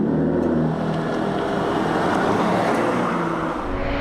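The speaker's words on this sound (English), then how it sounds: "The Vanquish has 12 cylinders and displaces almost 6 liters." Aston Martin Vanquish V12 sports car of almost 6 liters and 460 horsepower on the Sachsenring circuit, giving a steady, dense engine roar that holds loud and even throughout.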